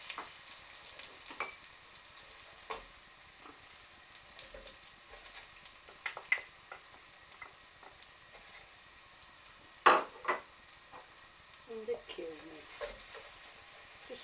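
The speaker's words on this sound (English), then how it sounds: "cook the garlic and the chilli in the hot oil" Garlic and chilli fry in hot oil in a pan, a steady soft sizzle with occasional stirring scrapes and a couple of louder clatters, close and continuous.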